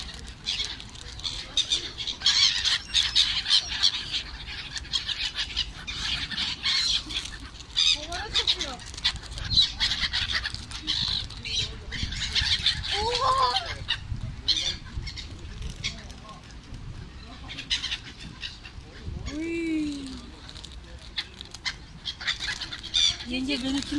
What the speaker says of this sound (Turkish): Evet, Baltalimanı Klinik Hastanesi'nde martılara kraker attık.